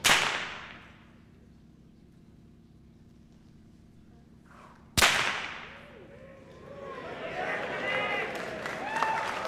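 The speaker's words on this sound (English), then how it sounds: "How hard is it to crack a whip" At a school NAIDOC assembly, a handmade whip cracks twice with sharp, loud reports several seconds apart; the second crack sets off applause, cheering and children's voices from the gathered crowd.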